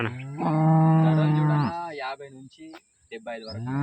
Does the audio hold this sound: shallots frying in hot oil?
no